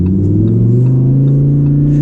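A Lamborghini Huracan Evo pulls away from a green light, its engine note a loud, deep rising drone heard from inside the cabin that climbs steadily in pitch as it accelerates.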